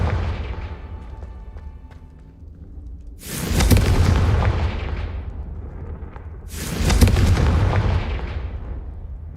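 Two heavy booming blasts from Confringo spell explosions in Hogwarts Legacy, each striking suddenly and then rumbling away over a few seconds, with a quieter game ambience before and between them.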